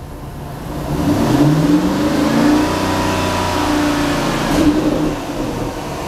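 A Dodge Hellcat Hemi V8 revving up to 3,500 RPM, the engine note climbing and holding a steady high drone before easing back, loud and close with no talk.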